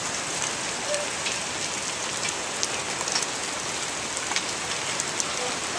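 Golf-ball-size hail pelts down in a steady, dense hiss with scattered sharper impacts, loud and continuous throughout with no voices.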